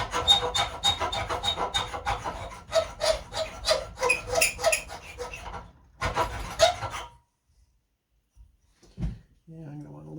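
Hand file rasping an aluminum saddle, a close run of quick rubbing strokes for about six seconds, then one short burst, followed by near silence and a brief thump.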